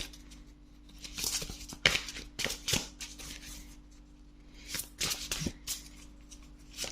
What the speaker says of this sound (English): So hard to shuffle these, like they're so huge.